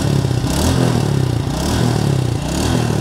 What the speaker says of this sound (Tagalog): start natin ang ating motor, ang Yamaha Sight na nalubog sa baha